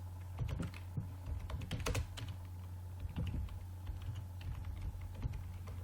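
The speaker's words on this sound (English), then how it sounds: "I'm typing the name as IoT based home automation" Keystrokes on a computer keyboard tap in irregular bursts over a steady low electrical hum while a name is entered into a form.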